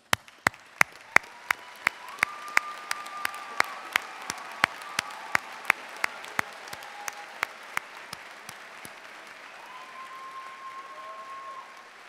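Applause from the audience at D'Youville College's 109th commencement in May 2017: steady crowd clapping runs throughout, with a few sharp, louder claps near the front in the first half and a faint tonal squeal drifting over the top.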